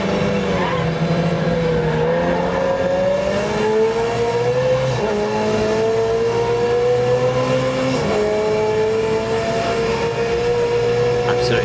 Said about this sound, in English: let's just be quiet just for a moment, just to let you hear how awesome this car sounds